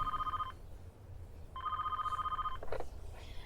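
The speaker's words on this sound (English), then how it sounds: "Then over the intercom they heard the sound of a phone ringing in the security room." A telephone rings in a security room, heard over an intercom: two electronic trilling rings, each about half a second, separated by a pause, faint against a low hum, with a brief click afterward.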